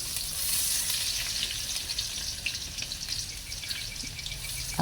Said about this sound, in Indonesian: Bumbunya yang pertama yang digoreng itu, bawang putihnya digoreng sampai harum.